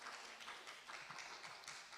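An award ceremony audience applauds the winners, a steady wash of clapping held at a moderate distance for the whole stretch, with no voices over it.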